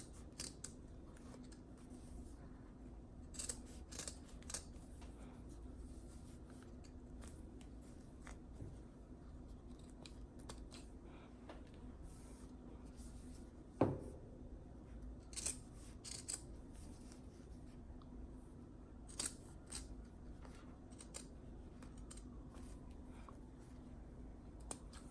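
Scissors snip through fabric material for a Dollar Tree storage bin project, faint close clicks and soft cuts scattered irregularly over a quiet background with a low hum.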